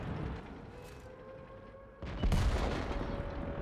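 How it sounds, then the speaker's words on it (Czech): Tank cannon fire in the World of Tanks video game, a loud booming blast around two seconds in that follows a quieter stretch of game noise and lingers as rumbling battle sound. "už střílí."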